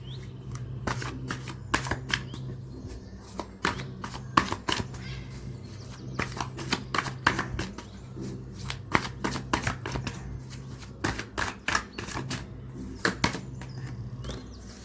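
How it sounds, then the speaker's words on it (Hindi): Tarot cards being shuffled by hand, a close series of quick riffling bursts and soft slaps repeating irregularly throughout, with no talk. "मैं शफल करके ही कार्ड निकालूंगी।"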